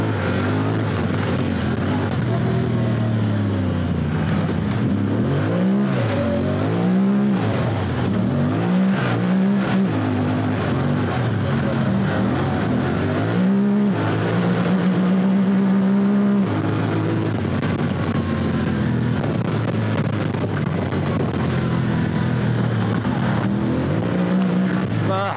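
A Honda Talon 1000X side-by-side held at full throttle on a Utah Zion Canyon wilderness trail, its engine droning loud and close with repeated rising and falling pitch sweeps as the transmission shifts gears back and forth.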